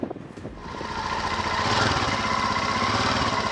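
Several motorbike engines starting and settling into a rough idle after a night parked out in the cold, loud and close, with a sharp burst at first giving way to a steady, continuous running drone.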